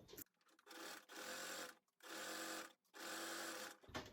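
A sewing machine stitches the hem of a fabric cushion cover in three steady whirring bursts, each about a second long, with short pauses between runs, close and clear with no talking.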